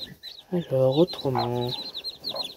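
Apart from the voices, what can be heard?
newborn chick calling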